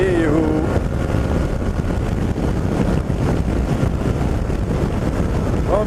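Heavy wind roar buffets the microphone on a fast ride at about 104, a loud, constant rushing with gusty fluctuations throughout.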